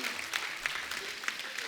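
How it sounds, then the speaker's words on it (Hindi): Studio audience at a comedy talk show bursts into loud, sustained applause, a steady wash of clapping lasting under two seconds with a few sharper claps standing out. "जोरदार ताली।"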